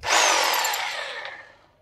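A Makita rotary hammer drill runs in hammer-and-rotate mode during an air conditioner installation, a loud, harsh whirring burst that starts abruptly and fades out over about two seconds.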